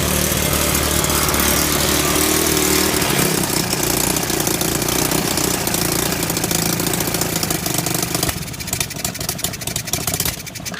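Engine of a 125cc 4-speed semi-automatic ATV idling with a carburetor in need of adjustment, a loud, rough, rapid putter running steadily, then easing lower and quieter near the end.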